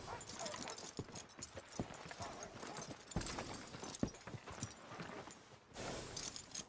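Horse hooves clip-clop at a walk in Red Dead Redemption 2, a steady run of soft thuds continuing throughout under dense game ambience.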